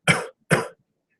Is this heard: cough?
yes